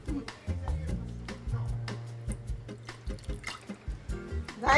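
Water is poured into tomato passata in a pan, giving brief splashing and trickling bursts over music, with a louder liquid splash at the end.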